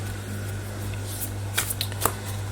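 A deck of healing mantra cards gets a short shuffle, a few quick riffling bursts near the end heard close against a low background hum, with no talking.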